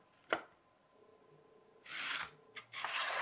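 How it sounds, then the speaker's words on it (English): An aluminium beer can is sanded with coarse aluminium oxide sandpaper, giving short scratchy rasping strokes, a sharp tap followed by two longer rubbing passes, close and fairly quiet. "Got some rougher"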